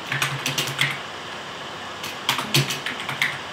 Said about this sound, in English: we're going to type our tip